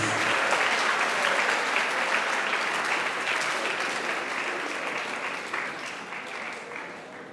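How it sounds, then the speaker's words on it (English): Sustained, dense audience applause fills a high school maths league excellence awards ceremony in Ghana, loud and steady before slowly tapering off toward the end, with no clear talk over it. "Let's clap for him."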